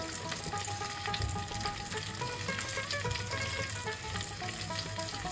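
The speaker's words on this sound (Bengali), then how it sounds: "এবার আমি হিং দিয়ে দিচ্ছি কিছুটা, হলুদ দিয়ে দিচ্ছি" Asafoetida and turmeric sizzle in hot oil for a vegetarian aloo dum. A quiet, even frying hiss runs throughout, with faint clinks and tones in the background. No one speaks.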